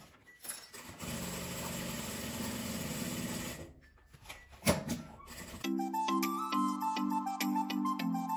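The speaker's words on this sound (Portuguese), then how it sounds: "Agora eu vou passar uma costura aqui em volta," A sewing machine runs steadily while stitching around the edge of a plastic and leather slipper holder, its motor whirring near and continuous for several seconds before stopping; a short pause follows, then a brighter tonal passage.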